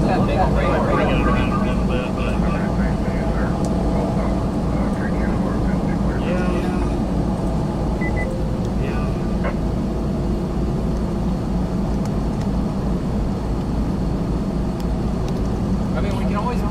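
Inside an aircraft cockpit during tornado storm coverage, a loud, steady engine and airflow roar fills the whole stretch, with voices talking beneath it.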